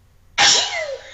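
One person sneezes once, loud and close, a sharp burst that trails off quickly after a quiet moment.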